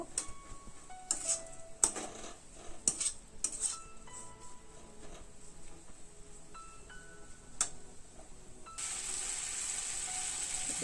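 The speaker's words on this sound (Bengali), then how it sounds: "এবার দিয়ে দেব তিনটে লঙ্কা কুচি নাড়াচাড়া করে নেব" Chopped green chilies frying in a pan for semolina upma, heard as faint close sizzling with light clinks and scrapes from stirring, and a steadier hiss building near the end.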